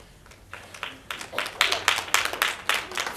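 Applause breaks out at a school board meeting in Arlington ISD, as scattered claps build into a brief round of clapping from a room of people.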